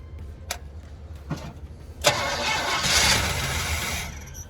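A 1981 GMC Sierra cranks over after a few faint clicks, catches with a sharp burst and settles into a rough, steady idle, close and fairly loud.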